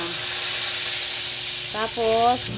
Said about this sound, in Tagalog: Prito na tuna.